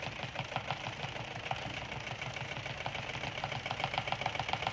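A spin art table motor, capable of about 5,000 RPM, whirs at speed with a steady rapid pulsing hum that holds constant and fairly quiet throughout.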